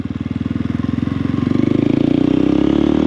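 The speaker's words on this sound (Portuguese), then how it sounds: "Igual aqui mesmo, dá aquela reduzinha. Aí ela dá uma seguradinha já." A motorcycle engine braking during a downshift pulses with a rhythmic, throbbing exhaust beat that grows steadily louder and faster, close and prominent, with no talk over it.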